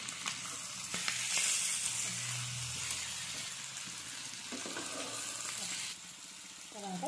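Chicken fry in a hot pan sizzles loudly and steadily while it is stirred and mixed, with a spatula scraping and clinking now and then, and a voice talks over it.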